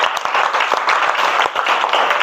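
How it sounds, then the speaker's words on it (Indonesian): A class of students applauds together during a school lesson, a dense, steady clapping that fills the whole stretch at close range with no talk over it. "Beri tepuk tangan dulu untuk kita semua."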